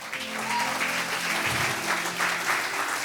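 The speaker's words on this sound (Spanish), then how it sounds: "Denle un fuerte aplauso al Señor." A church congregation clapping together during a sermon, dense sustained applause filling the room for a few seconds, loud and even, with a faint voice underneath.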